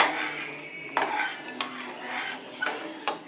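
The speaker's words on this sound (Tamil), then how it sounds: "இதை நல்லா கிளறி விட்டுக்கணும்" Ven pongal is stirred in a cooking pot, with a metal spoon scraping and knocking against the pot several times at an uneven pace, close up.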